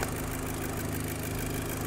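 A Volkswagen Mk5 GTI with the EA113 engine idles steadily at close range, a low, even rumble with a constant hum and no change in pace throughout.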